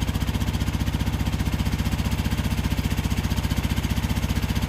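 An old café racer motorcycle that had sat unridden for a long time idles steadily close by, its engine pulsing in a fast, even rhythm with no talk over it.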